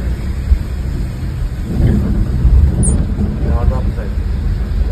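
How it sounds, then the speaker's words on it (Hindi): Heavy rain pours steadily near a highway tunnel and toll plaza on the road from Delhi to Manali at dusk, a dense continuous wash with low rumbling underneath and faint traffic, with no talk over it. "पता है बारिश हो रही है यहीं पे बैठना सेफ है अभी।"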